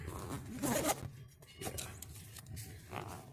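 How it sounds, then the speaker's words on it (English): A zipper on an ILBE backpack compartment is pulled in several short rasping strokes, close and moderately quiet, with brief pauses between pulls. "There's these zippers."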